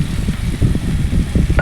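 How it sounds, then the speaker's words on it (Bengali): Chili paste and tomato paste hit a hot pan with fried taro, giving a brief burst of thick, bubbling sizzle mixed with stirring, close and loud. "এবার আমি লঙ্কা বাটা আর সাথে টমেটো বাটাটা দিয়ে দেবো"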